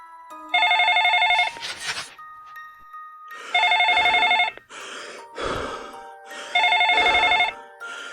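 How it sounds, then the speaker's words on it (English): An internal phone at a remote motel rings loudly and close in three evenly spaced bursts of bright electronic trilling, with clattering noise between the rings. "the internal phone will ring"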